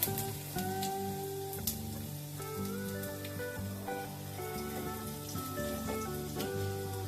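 Ginger, cloves and other whole spices sizzling in hot oil, a continuous crackling fry that stays fairly soft under faint melodic tones.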